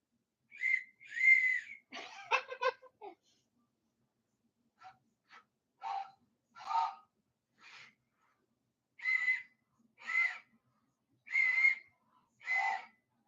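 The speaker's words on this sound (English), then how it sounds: "More like this whistle." A person whistling short tonal notes in a quiet room, a few quick breathy bursts and then a series of separate whistles spaced about a second apart, close and fairly soft.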